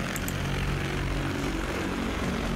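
An AutoFlight Prosperity I air taxi's propellers spin up for takeoff, producing a loud, steady, broadband whirring roar that holds constant and close throughout, with no talking.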